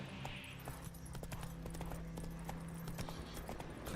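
Roach the horse's hooves clopping in Witcher 3, a steady rhythm of quick hoof strikes over a low game ambience, fairly near and moderately loud, with no talk.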